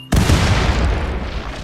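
A deep boom from an explosion detonated in the colony game RimWorld bursts suddenly and loudly, then rumbles and fades over a second or so.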